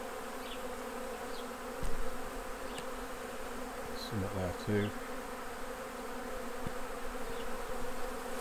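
Honey bees swarm over empty hive frames set out after a honey harvest, keeping up a continuous busy drone with occasional close fly-bys, while someone speaks briefly over the buzzing.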